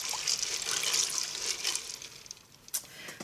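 Beans and water are stirred in a pot, giving a steady, close, soft watery sloshing and swishing that thins out near the end, with a brief clink and no speech.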